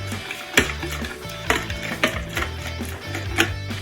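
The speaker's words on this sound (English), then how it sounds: "Whisk your egg yolks together." Egg yolks are whisked in a container for a Japanese soufflé pancake batter, giving close, repeated clinks and scrapes of a whisk against the sides at an irregular rhythm, with no talking.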